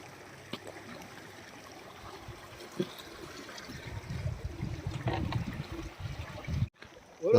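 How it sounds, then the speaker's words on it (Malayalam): Clear river water of the Shyok flowing past in a high desert valley, a soft steady rushing and trickling at moderate distance, fairly quiet and continuous with no voices. "നമ്മുടെ മുന്നിലൂടെ ഒഴുകുന്ന ഷയ്യോക്ക് റിവറാണ്"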